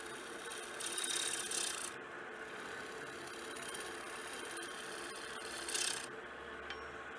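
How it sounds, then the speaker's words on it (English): A lathe gouge cuts a spinning wooden bowl at a steep angle, throwing spiral shavings: a soft, steady scraping rasp over a low motor hum, with two brief louder swells of cutting. "I'll make sure it's cutting just on that edge there on quite an angle, and then I'll get more of those spiral shavings"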